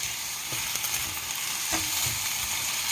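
Brown sugar being stirred into hot oil for a sweet and savory curry, a steady broad sizzle with a few soft scraping stir strokes, close and loud, no voices.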